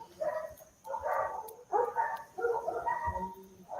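A neighbour's dogs in rural Bukidnon bark in the background, four drawn-out bouts of yelping barks separated by short pauses, moderately loud and somewhat distant.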